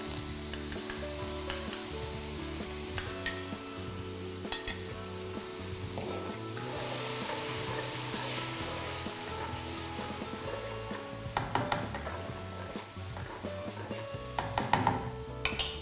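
Chinese wine, stock and mixed stir-fry sauce sizzling in a hot wok, a continuous loud crackling hiss with metal scraping and clanks from stirring throughout, heavier toward the end.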